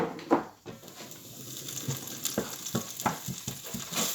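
Onions cooking down in a pan for a Goan curry, a steady soft sizzle with scattered stirring scrapes and clicks, close and moderately quiet with no talking.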